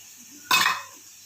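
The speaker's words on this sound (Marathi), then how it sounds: "किंचित पाणी घालून मी विसळून घेते भांडं" A single short splash of water swirls in a cooking pot, a quick burst that fades within a moment against a quiet background.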